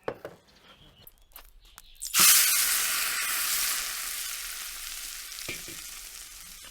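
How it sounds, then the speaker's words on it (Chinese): Hot oil poured over poached Cantonese white-cut chicken bursts into a loud, hissing sizzle that starts suddenly and fades slowly over several seconds, after a few soft clinks. "烧点油给它去一下就可以开饭了"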